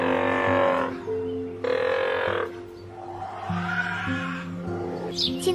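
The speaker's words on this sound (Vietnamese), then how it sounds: "Seal." A seal gives loud, rough, roaring barks in a few long bursts, close and prominent over soft background music.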